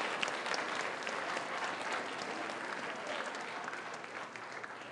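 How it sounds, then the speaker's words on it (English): Sustained applause from an audience fills the whole stretch, steady and dense, with a brief spoken word caught underneath. "a nice round of applause."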